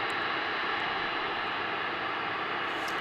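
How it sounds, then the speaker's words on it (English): A small DHL cargo airplane at DFW International Airport gives a steady, broad engine roar that holds at constant loudness, with no voices over it. "this is a small cargo carrier operating for DHL today"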